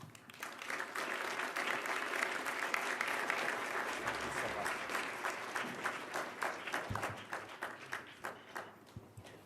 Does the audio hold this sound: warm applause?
yes